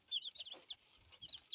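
Broiler chickens on their first day cluck in a chorus of soft, high chirps and short calls that keep coming and going. The birds are close by, drinking water in a warm brooding shed, and nobody speaks.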